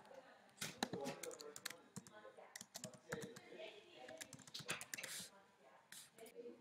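Fingers type text on a computer keyboard in quick, irregular bursts of light clicking keystrokes, soft and close, with a few pauses between words.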